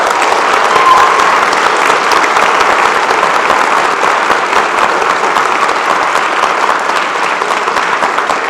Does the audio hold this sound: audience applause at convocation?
yes